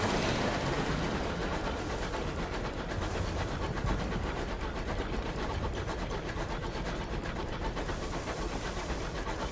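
A flying locomotive engine in the game Sunless Skies gives a loud, continuous rumbling chug with a faint rhythmic clatter, a dense steady roar that fills the whole stretch with no talking.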